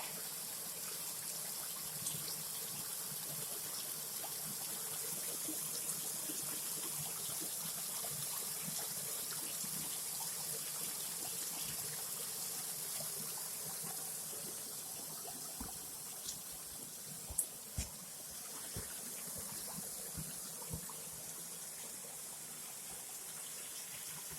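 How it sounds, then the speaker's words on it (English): A steady wash of water from a small forest waterfall at Cataract Falls, splashing and gurgling, fairly soft and constant, with a few small splashes and knocks standing out. "Look at that beautiful miniature waterfall."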